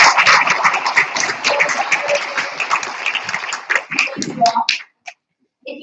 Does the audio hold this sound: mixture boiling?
no